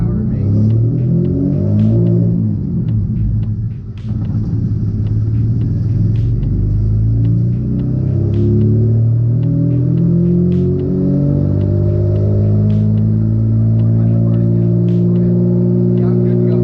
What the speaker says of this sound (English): we're gonna do a dyno pull and see how much power it makes